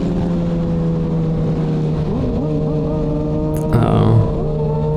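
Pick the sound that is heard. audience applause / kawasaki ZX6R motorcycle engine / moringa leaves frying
kawasaki ZX6R motorcycle engine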